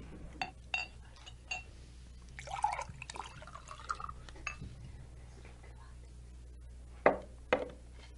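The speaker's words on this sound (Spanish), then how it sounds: "Bebió la cerveza hasta dejar solo burbujas de espuma en la botella" Radio drama sound effect of beer poured from a bottle, a run of small drips, glassy clinks and liquid splashes at uneven intervals over a quiet low hum, fairly close and soft.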